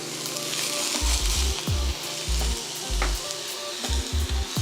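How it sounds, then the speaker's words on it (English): Turkey meat browns in a cast iron skillet with a constant crackling sizzle, while a wooden spoon breaks up the meat in repeated low thuds and scrapes, close and fairly loud. "Now we're getting ready to start, you know, browning the meat."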